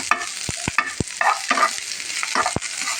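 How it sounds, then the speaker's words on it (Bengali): Garlic and onion fry lightly in a pan with a loud, close sizzle, broken by several sharp scrapes and stirs of a spoon and no voices. "রসুনটা আর পেঁয়াজটা একটুখানি আমি হালকা করে একটু ভেজে নেব"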